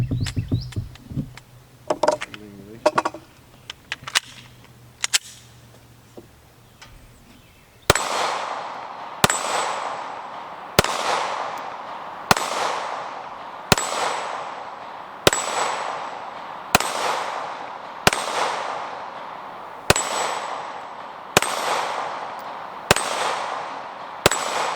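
Shots from a Smith & Wesson M&P 2.0 9mm pistol fired outdoors, about a dozen loud cracks at a steady pace of roughly one per second, each ringing out with a short echo, after some quieter handling sounds.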